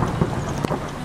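Thunder from a lightning strike rumbles under heavy downpour during a storm in Moravia, a dense wash of rain with a low, steady roll.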